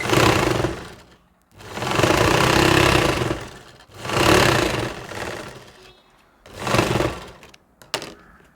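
Sewing machine stitching the lining of a saree blouse, running in three long bursts with short pauses between, a steady close mechanical whir.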